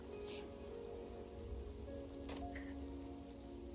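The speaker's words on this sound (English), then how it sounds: "it is still raining, as it were" Rain falls steadily outside during a tabletop role-playing game session, a faint, continuous hiss of drops with a few brief clicks and knocks nearby, quiet and unbroken.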